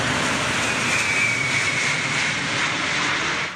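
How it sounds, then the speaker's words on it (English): Antonov AN-225 cargo jet with six engines and an 88-metre wingspan descending to touch down at Perth International Airport over homes, a loud steady engine roar that holds throughout and dips at the very end. "the Antonov AN225 cargo plane touch down"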